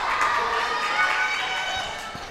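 Loud Rankin crowd at a basketball game, a steady roar of cheering and shouting voices that fills the space without a break and eases off slightly toward the end.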